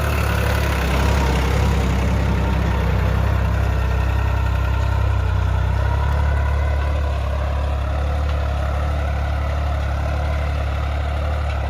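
A New Holland 3600-2 tractor pulls a 9-tine cultivator through a field, its engine running steadily and loud for the whole stretch with a deep low rumble, no voices over it.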